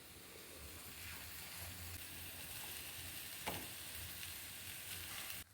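Rice stir-fried with vegetables in a hot pan for egg fried rice, a steady, even sizzle and hiss that runs throughout, with faint stirring scrapes and no talking.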